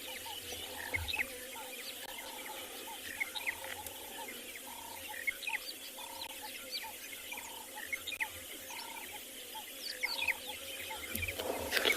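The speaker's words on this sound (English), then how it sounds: "A lot of grass birds around us," Grass birds, including monotonous larks, call across open South African savanna grassland, with repeated short chirps and trills at a steady rhythm over a quiet ambient background, moderately distant.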